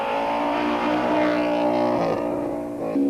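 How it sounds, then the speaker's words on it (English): Turbocharged Audi 90 Quattro rally car on a 1994 Castrol International Rally stage, its engine droning loud and strong with a steady harmonic growl that shifts pitch as it drives on. "Abe Smith and Les Wild in their turbocharged Audi 90 Quattro, looking steady and sounding strong"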